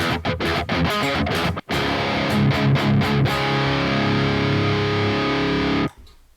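Heavily distorted prog rhythm guitar through the Neural DSP Archetype Nolly amp plugin, playing a few choppy palm-muted stabs, then a sustained loud chord-driven riff before cutting off abruptly near the end.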